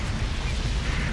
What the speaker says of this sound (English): just watch the pretty explosions